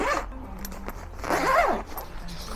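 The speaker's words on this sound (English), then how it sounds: "Zipper at the top here opens up for you to stick little stuff in there." Zipper on a Fimi X8 SE drone carrying bag pulled open close up in a few rasping strokes, with a louder drawn-out pull near the end.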